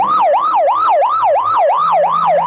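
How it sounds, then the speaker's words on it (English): A loud, close police or ambulance siren in a radio drama, wailing in a steady fast up-and-down cycle about five times a second, heard alone. "You know it's a police car or ambulance on the way to or from an emergency in which someone is badly hurt."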